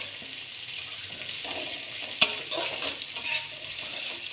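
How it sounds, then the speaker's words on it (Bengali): Chopped onion and green chilli fry in hot oil with cumin seeds and a pinch of asafoetida, a bright, close sizzle broken by a spoon stirring and scraping the pan, with no voices. "তেলে জিরা দিলাম, আগে তেল গরম হলো, জিরা দিলাম, একটু হিং আর পেঁয়াজ কুচি"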